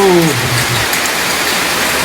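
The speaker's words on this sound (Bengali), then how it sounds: "ভাই রে ভাই, কি বৃষ্টিটাই না হচ্ছে। আওয়াজ শোনো" Heavy rain pours down in a steady, dense hiss that fills the whole stretch, with a short voice heard briefly at the very start.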